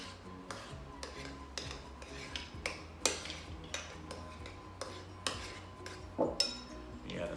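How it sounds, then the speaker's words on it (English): A spoon folds mini cheesecake batter in a bowl, tapping and scraping against the dish in a steady run of light clinks, close and unaccompanied by speech. "Let me get another spoon here and fold it in."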